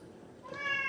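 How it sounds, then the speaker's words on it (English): A cat lets out a single drawn-out meow close by, rising out of a quiet room near the end. "apologies for the cat, I don't know what his deal is other than he needs attention"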